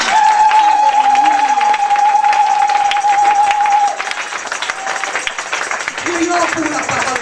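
A church congregation cheers and applauds in worship, a loud continuous crowd roar with clapping and shouts that eases slightly midway, while a sustained tone runs under the first half.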